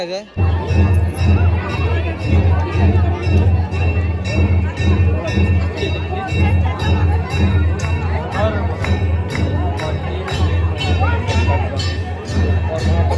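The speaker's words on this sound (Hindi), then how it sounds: "ये साइड ले बहुत ज़्यादा भीड़ है" Temple visitors at Amarkantak, Madhya Pradesh, crowd together and chatter in a dense, continuous babble of many overlapping voices, close and loud, with a steady low rumble running underneath throughout.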